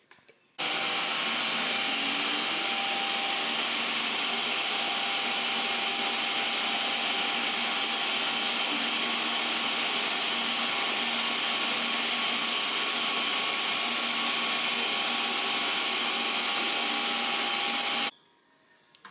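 A blender pureeing fresh strawberries for old-fashioned strawberry jam runs as one loud, steady motor whir, starting abruptly and holding an even, unbroken roar for about seventeen seconds before cutting off.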